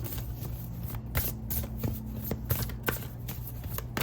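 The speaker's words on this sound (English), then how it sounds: "live shuffle for you, and I'm going to use a different deck for you." A deck of tarot cards is shuffled by hand up close, quick riffling flutters and soft slaps repeating in an irregular rhythm, fairly quiet over a low steady background hum.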